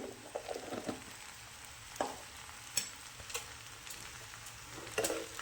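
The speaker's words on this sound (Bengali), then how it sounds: "দিয়ে এটা নাড়াচাড়া করে, এইভাবে নাড়াচাড়া করে দিলাম।" A spoon stirs pasta with vegetables, egg and black pepper in a village-kitchen pan, giving soft irregular scrapes and clatters over a low sizzle, with no talking.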